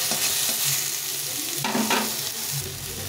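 Leafy greens fry in a small amount of oil in a pan, a constant sizzle with a few stirring scrapes in the middle, close and without speech.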